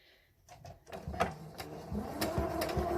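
A sewing machine stitches fabric for a face mask, its mechanical whirring starting after a brief quiet moment and running steadily close by to the end, with no talking.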